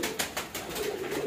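A breeder pigeon that appears sick and sluggish coos softly and continuously at close range, a low throaty murmur with no one talking.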